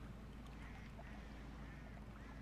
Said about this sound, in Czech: Tak, kačeny tam hrvou.